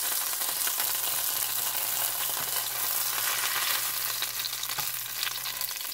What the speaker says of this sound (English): I'm just gonna fry it for a few minutes on each side.